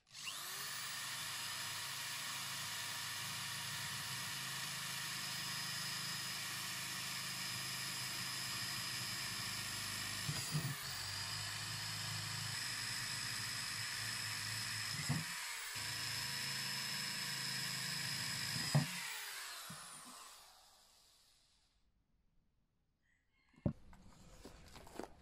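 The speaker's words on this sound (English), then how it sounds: "drill a couple of holes in these just for drainage" A power drill runs steadily while boring drainage holes in plastic plant pots, a sustained high whine lasting about twenty seconds with brief dips and restarts, then stopping before a couple of short knocks.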